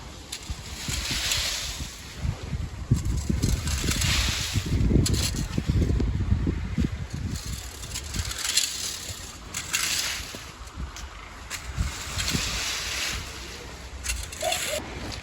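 Strong wind buffets the microphone outdoors in rough gusts while leaves are raked, rumbling continuously with no clear speech over it.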